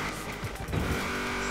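Race car engine with a V8 swap in Forza Horizon 4, a loud continuous roar with tire squeal and skidding rising near the middle, heard close and steady throughout.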